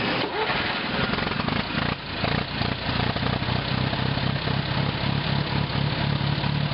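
A World War II Hobart Brothers Hercules engine generator, freshly fueled after a carburetor cleaning, rumbles into life and keeps running with a steady mid-pitched engine drone, close and constant.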